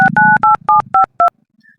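Telephone keypad tones from a phone dialing a call: six quick dual-tone beeps in an uneven rhythm, loud and close, with a low hum beneath and a brief faint tone at the end.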